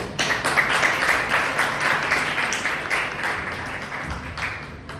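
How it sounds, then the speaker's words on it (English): A Toastmasters club meeting audience gives a sustained round of applause, dense and even clapping for about five seconds with no talking over it. "with a huge round of applause, Toastmaster Harshit."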